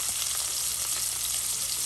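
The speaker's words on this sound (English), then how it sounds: "we're frying them up here in the oil, olive oil, of course" Croaker fish frying in hot olive oil, a steady bright sizzle with faint crackles holding evenly close by for the whole stretch, with no talking over it.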